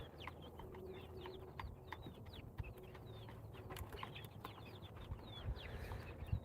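Chickens on a farm cluck and peep steadily at close range, with bright chirps scattered over a constant low murmur of the flock and no talking.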